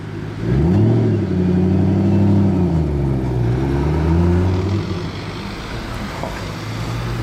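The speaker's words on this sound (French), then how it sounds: "Ford GT" A Ford GT in Gulf livery accelerates along a Monaco street, its engine roaring loud and near as the pitch climbs, dips at a shift and rises again before fading into the background street noise.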